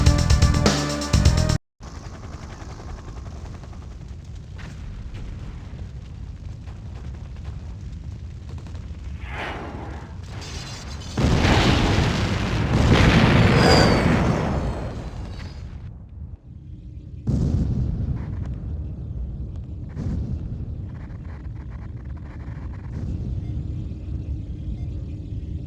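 Temple explosions in the Command & Conquer GDI cinematic: heavy, rumbling blasts build into a loud, dense roar around the middle, then fall back to a steady low rumble with scattered bursts and crackle.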